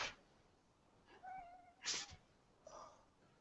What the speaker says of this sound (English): whiny noise you hear is not some woman I have tied up. That's my cat complaining.